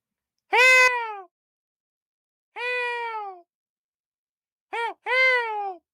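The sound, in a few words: voice imitating a peacock call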